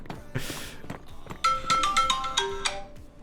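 A phone ringtone plays a quick melodic run of bright, clear tones in steady succession lasting a few seconds, fairly loud and close, with light background noise and no talking.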